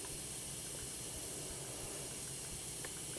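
Steam escapes through a broken metal washer on a stovetop water distiller, making a faint, steady hiss without a break.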